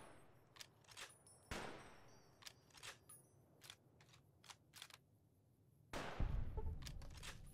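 Bursts of gunfire from a full magazine being emptied in Fallout: New Vegas crack sharply and irregularly, about a dozen shots spread across the stretch, with a heavier rumbling blast near the end and no talk.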